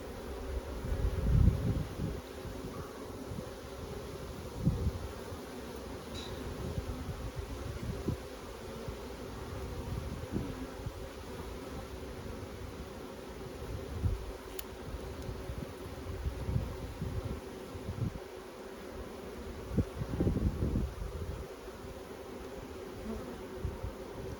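A constant drone of honey bees swarms around a hive at an outdoor apiary, steady and close throughout, with occasional nearer passes and faint rustling.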